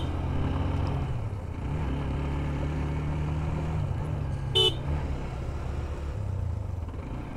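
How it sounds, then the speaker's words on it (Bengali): A Bajaj XCD 125cc motorcycle rides along a winding mountain road from Bandarban to Nilgiri, its engine droning steadily among other traffic, with a single short horn toot midway. "এই এক্সট্রিম বাইকটা কীভাবে বেরোচ্ছে।"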